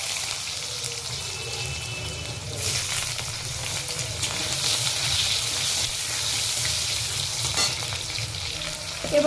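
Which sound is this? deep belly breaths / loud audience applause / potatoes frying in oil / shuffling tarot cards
potatoes frying in oil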